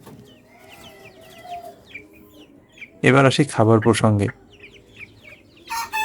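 Sonali chickens on a small poultry farm cluck and call in a chatter close by, while someone talks loudly over them partway through.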